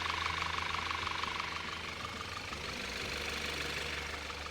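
Engine of a used Audi A4 quattro running and shaking slightly, a steady low idle hum with faint knocking pulses, moderately quiet and without speech.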